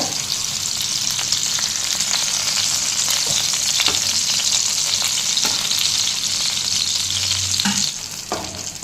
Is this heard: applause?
no